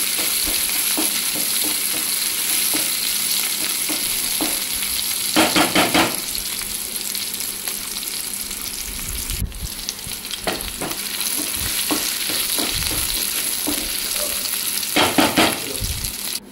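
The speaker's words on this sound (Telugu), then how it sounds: "ఇది ఉల్లిపాయ కొంచెం కలర్ చేంజ్ అయ్యే వరకు వేయించుకోవాలి" Thinly sliced onion sizzles in hot oil with mustard and cumin seeds, a loud continuous frying hiss throughout, with bursts of stirring scrapes at intervals and no talking.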